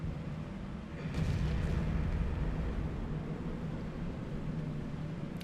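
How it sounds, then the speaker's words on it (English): An artillery shell lands in a World of Tanks battle, a broad rumbling impact rising at about one second and rolling on as a sustained low boom over steady engine-like noise. "And oh shit, surprise artillery."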